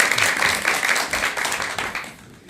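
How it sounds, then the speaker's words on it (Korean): A lecture audience applauds, a dense burst of many hands clapping that holds steady and then fades out near the end. "자, 그럼 여러분 큰 박수와 함께 박사님 강의 청해 듣도록 하겠습니다."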